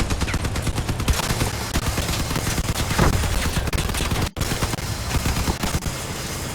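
Rapid automatic gunfire in the vehicle combat game Crossout, dense continuous bursts of shots with heavy low-end thumps, loud and sustained with a momentary dropout partway through.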